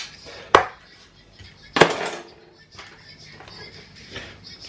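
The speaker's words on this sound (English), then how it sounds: "So all I'm going to do is shred all my onions." Onions are shredded on a board in a kitchen, with two sharp, loud chopping strikes followed by softer cutting and rustling close by.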